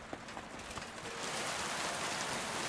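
Steady rain falls in the medieval video game Kingdom Come Deliverance II, starting light and swelling into a dense even patter after about a second, with faint hoof-like clops early on.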